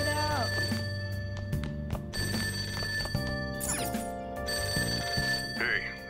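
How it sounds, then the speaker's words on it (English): In Persona 5 Royal, a telephone rings downstairs with a repeated electronic bell tone over layered game music and sound effects. "That ringing sound isn't coming from my cell phone. I hear it coming from downstairs."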